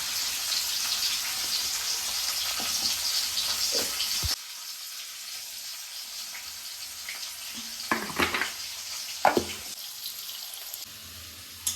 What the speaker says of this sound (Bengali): আলুটা ভাজা হয়ে গেছে, এবার তুলে রাখবো